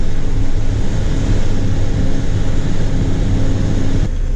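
A John Deere 8335R tractor at 2100 RPM in seventh gear, crimping rye while planting soybeans, gives a loud, unbroken engine drone with rushing wind noise, steady throughout before a slight drop near the end.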